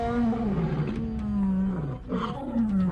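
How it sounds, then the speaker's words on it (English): A Protoceratops roar sound effect from Dinosaur Planet: one loud, deep, harmonic roar that runs continuously for about three seconds, wavering in pitch and swelling again near the end. "The Protoceratops has a nice design, but their sound effects sounds too big for their size."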